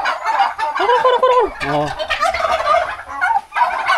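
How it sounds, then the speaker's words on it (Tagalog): Turkeys in a small poultry pen gobble loudly and close, several rapid warbling bursts one after another, with a brief exclamation from a person. "Ayan o, mga pabo."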